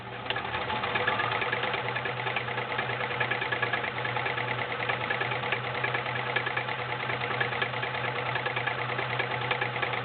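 A vintage 1980s Kenmore convertible sewing machine runs a 3-point zigzag stitch, a steady, close mechanical whirring and rapid clatter continuing unbroken with a low motor hum beneath.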